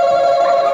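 A game-show buzzer that rings like a telephone, one loud, sustained electronic trill held for under a second, close and alone.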